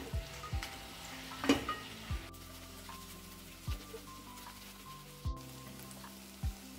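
Chilli, turmeric and salt stirred into tomato masala frying in a pan, a steady sizzle broken by repeated spoon scrapes and taps every second or so, close and moderately quiet, no speech.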